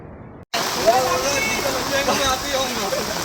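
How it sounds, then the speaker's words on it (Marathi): Heavy monsoon rain pours steadily during flooding in Raigad, a dense continuous hiss of water close by, with a voice faintly audible beneath it. "पाऊस"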